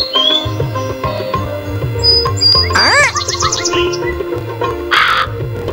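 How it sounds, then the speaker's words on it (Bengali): Cartoon crow in a Meena animated game caws loudly several times over a looping game soundtrack, harsh calls standing out near and clear. "ওরে কাকরে"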